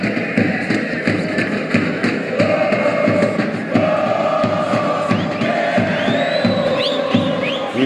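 Supporters of SE Corinthians and EC DER fill a stadium with a steady, loud crowd roar of chanting and cheering at a title football match in SBC, with whistles and shouts rising over the dense noise throughout.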